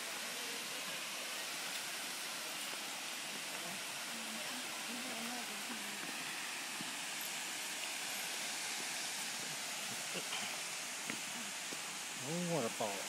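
Steady rushing roar of a waterfall near Auburn, Alabama, a constant wash of falling water heard from nearby, with people talking intermittently over it and a voice rising near the end.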